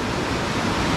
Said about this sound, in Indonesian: ombak di pantai ini cukup besar